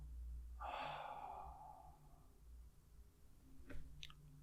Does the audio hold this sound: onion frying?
no